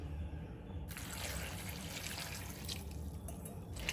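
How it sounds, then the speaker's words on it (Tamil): Water poured into a pot of mixed vegetables for sambar, a steady splashing, gurgling stream that runs continuously, close and fairly loud with no talking. "இப்போ இதில் வந்து நம்ம வந்து தண்ணி சேர்க்கலாம்"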